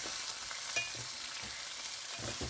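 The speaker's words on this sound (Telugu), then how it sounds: "ఒక ఫైవ్ మినిట్స్ వరకు అయితే ఇలా ఫ్రై చేసుకోండి" Broad beans frying in a pan with green chillies and onions, a quiet continuous sizzle with occasional soft stirring taps, heard alone.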